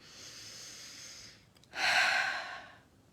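A slow, deep breath, with a long airy inhale followed by a louder, fuller exhale, close and clear with no talking over it.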